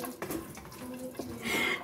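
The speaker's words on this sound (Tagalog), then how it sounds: "Kalakas ba naman ang tubig naman dito?" Strong tap water running while vegetables are washed, a steady splashing rush with clinks of handling, brief and fairly faint.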